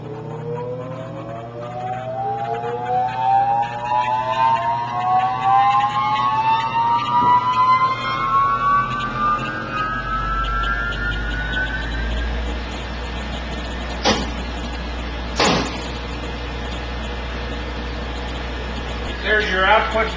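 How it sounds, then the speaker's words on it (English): A 400 Hz motor generator for in-shop power spins up, its whine rising steadily in pitch over about twelve seconds, then settling into a loud constant electrical hum, with a couple of sharp clicks near the end. "The most common for in-shop power is a device like this, which is a motor generator. I'll start it so you can see how it operates."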